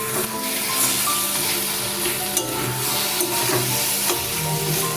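Bombay duck fish frying in a pan with chopped coriander gives off a continuous close sizzle, with light stirring scrapes and clicks throughout.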